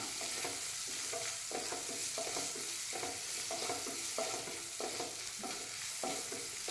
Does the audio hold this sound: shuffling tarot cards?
no